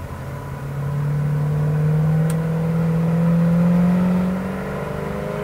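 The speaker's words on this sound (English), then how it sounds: "Uphill, this thing has plenty of power, transmission shifts great." A 1992 Winnebago Elante 37RQ motorhome's large engine drones and climbs in pitch as it accelerates uphill, then the tone drops and settles as the transmission shifts gears, with steady road rumble.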